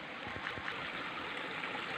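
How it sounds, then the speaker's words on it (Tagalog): A clean countryside river flows steadily, a soft continuous rush with faint trickling heard close by, no voices present. "Ang linis ng ilog dito."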